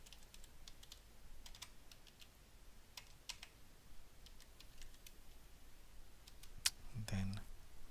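Computer keyboard keys clicked in short, quiet bursts as a chemical name is entered into process simulation software, with scattered taps and a faint low thump near the end.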